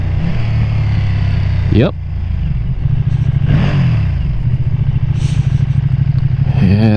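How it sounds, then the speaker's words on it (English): Ducati Streetfighter V2 motorcycle downshifting toward first gear with auto-blip, its engine droning loud and close with sharp throttle blips and rising then falling revs between shifts, while a rider speaks briefly over it. "Let's see if we can auto blip all the way to first."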